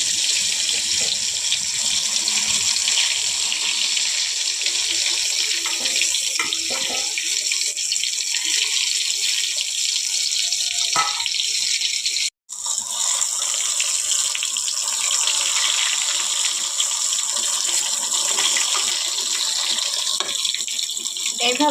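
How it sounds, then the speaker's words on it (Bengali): Eggplant slices deep-fry in mustard oil, giving off a loud, even, hissing sizzle that carries on almost unbroken, with a single brief drop near the middle. "তেলের মধ্যে এক এক করে ছেড়ে একদম ডুবো তেলে ভেজে নেব।"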